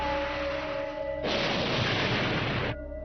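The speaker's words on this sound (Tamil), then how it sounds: "இன்னும் சில கிரகங்கள் வெடிச்சிருது" A cartoon planet explodes in a Tamil-dubbed Luckyman anime episode, a loud, dense blast of rushing noise that bursts in over a rumbling background and cuts off abruptly after about a second and a half.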